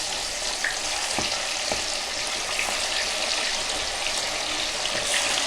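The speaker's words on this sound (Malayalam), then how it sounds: "അപ്പം ഇങ്ങനെ ചിക്കൻ പീസ് വറക്കിയിട്ട് കൊടുക്കാം" Chicken pieces deep-fry in hot sunflower oil for chicken 75, a loud, steady, dense sizzle and crackle with occasional soft pops, close and continuous throughout.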